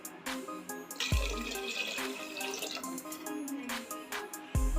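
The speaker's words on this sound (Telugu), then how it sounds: "వాటర్ పోసుకోవాలి." Water poured into a cooking pot while making a spiced Telugu dish, a steady splashing pour under kitchen clatter with a few sharp knocks.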